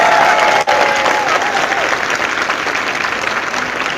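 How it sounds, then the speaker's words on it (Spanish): A congregation applauds loudly for the Catholic Church during a priest's talk, dense continuous clapping from many hands with a brief dropout near the start. "Aplauso para la iglesia católica"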